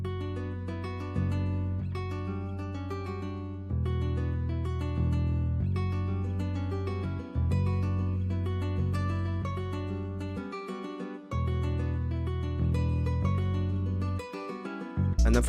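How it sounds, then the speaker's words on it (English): A sampled bass from a Kontakt bank playing a root-note bass line built from MIDI, deep sustained notes in a repeating pattern with short gaps and a steady groove, heard alone without talk. "I laid down this bass line from Young Jay's MIDI, the root notes, and it sounds like this"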